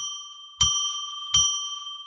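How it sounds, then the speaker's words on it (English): A bell is struck three times, each strike a bright ringing ding with a sustained shimmering tone that lingers between strikes, the third clipped at the very end. "I'm going to ring a bell 3 times to declare sacred space"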